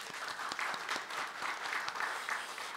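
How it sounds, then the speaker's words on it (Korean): Congregation at a Wednesday Buddhist service applauds in congratulation, a soft, distant, even wash of many hands clapping without talk. "다시 한번 축하의 박수 한번 보내겠습니다"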